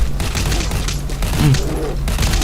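Rapid gunfire from the video game Metal Gear Solid V: The Phantom Pain rattles in dense, continuous bursts with heavy low booms, loud and unbroken across the whole stretch.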